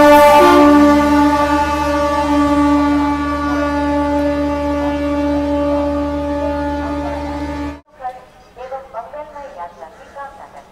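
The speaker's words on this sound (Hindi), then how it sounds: "तो गाइस 15 मिनट लेट हमारी गाड़ी डिपार्चर ले चुकी है निजामुद्दीन रेलवे स्टेशन से" A train pulling out of Nizamuddin railway station in Delhi, its long, loud, steady horn blaring for several seconds before it cuts off into rumbling movement, with talk following.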